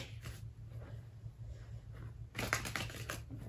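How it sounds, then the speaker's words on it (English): Tarot cards being shuffled in bursts of rapid riffling, with a louder flurry near the end over a low steady hum. "I'm gonna still give this a bit of a shuffle"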